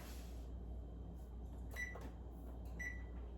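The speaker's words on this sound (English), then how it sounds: "Let's put the timer on." A kitchen oven timer being set, a few soft clicks and short electronic beeps over a steady low hum, with no talk.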